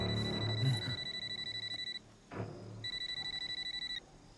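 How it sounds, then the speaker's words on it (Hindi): A mobile phone rings with a steady electronic trill in two bursts separated by a short pause, clear and moderately loud over a faint background, with a brief thud between the bursts. "ये देख, जीजा का फोन आ रहा है।"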